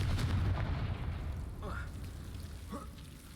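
A Confringo fire spell blasts off in Hogwarts Legacy, a booming low rumble at the start that fades into a lingering roar, with a couple of faint whooshing streaks afterward.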